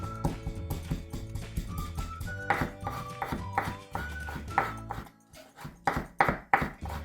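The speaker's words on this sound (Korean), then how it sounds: "생강은 조금이라 여기서 그냥 다져서 넣겠습니다." Knife mincing ginger on a cutting board for making pepper kimchi, a series of quick irregular chopping taps with short pauses, close and clear.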